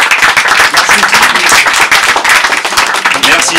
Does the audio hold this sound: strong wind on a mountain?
no